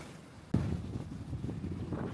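Strong wind buffets the microphone on the Kapalı Maraş beach at Gazimağusa, a steady low roar with a sudden gust at the start that keeps rumbling unevenly throughout.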